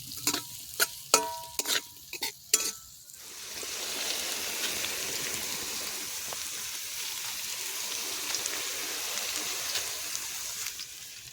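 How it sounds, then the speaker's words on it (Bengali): Potatoes frying in reused oil in a village kitchen, a few sharp knocks and clatters first, then a steady soft sizzle that runs on evenly and close by. "আলুটা ভেজে নিই"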